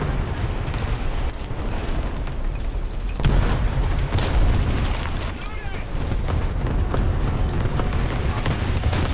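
In the tank battle game War Thunder, a cannon shot and explosion boom out amid a dense, continuous din of engine rumble and distant gunfire, with a sharp loud burst near the middle.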